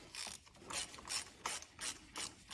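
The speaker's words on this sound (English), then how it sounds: "So just screw it back in and tighten to 13 foot-pounds." A hand ratchet clicks in short repeated bursts while a spark plug is tightened on a Lexus RX350, about six quick strokes, close and fairly quiet with nothing else heard.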